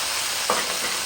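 Tomatoes with thyme tipped into a hot pan for a Réunion rougail, giving a steady broad sizzle with one brief louder stir or scrape near the middle, close and alone without talk.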